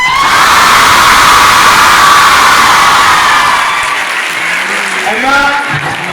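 A large crowd at a girls' college in Ludhiana, greeting a film's star cast, claps loudly and continuously with cheers and high-pitched shouts, fading slightly near the end as voices emerge.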